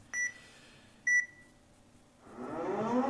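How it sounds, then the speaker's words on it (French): An electronic bomb game gives two short, clear beeps about a second apart as its end-of-game signal, followed by a rising burst of noisy hiss. "le petit signal sonore qui indique la fin de partie."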